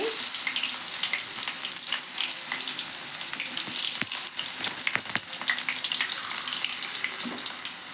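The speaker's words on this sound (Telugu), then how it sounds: "ఆయిల్ అయితే బాగా హీట్ అయిందండి. నేనైతే కొద్దిగా వేస్తున్నాను." Dried fish pakoda frying in well-heated oil gives a dense, continuous crackling sizzle with scattered sharper pops, close up and steady for the whole stretch, with no talking.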